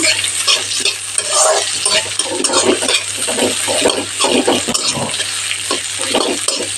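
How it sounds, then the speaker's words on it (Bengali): Chopped onion frying in a hot pan over medium heat, a loud, close, continuous sizzle with stirring clatter and scraping throughout, no talking. "পেঁয়াজ কুচি হালকা ভেজে নেব গোল্ডেন করব না"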